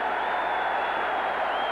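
Hockey arena crowd at a 1982 Rangers–Flyers NHL game, a steady loud roar of cheering and applause filling the whole clip with no break.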